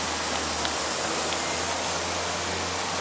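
Waterfall at the Chusha shrine of Togakushi in Nagano, heard as a steady, even rush of falling water with no other sounds.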